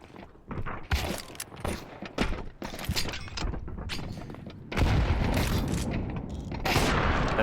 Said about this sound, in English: That nade was actually nasty.